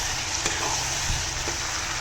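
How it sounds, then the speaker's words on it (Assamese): Raw peanut paste fries and is stirred in a pan for a fish curry, giving a steady soft sizzle with a couple of faint scraping knocks, close and without talk. "আৰু ভালদৰে লৰাই পেলাই ভাজি ল'ম"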